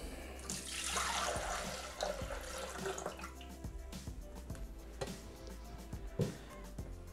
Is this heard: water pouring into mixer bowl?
yes